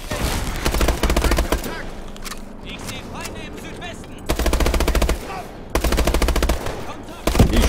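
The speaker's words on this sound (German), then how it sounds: "Ich schieße euch alle die Beine weg!" Rapid automatic gunfire in the shooter game Call of Duty: Advanced Warfare, loud sustained bursts separated by short pauses, with a voice talking over the shooting.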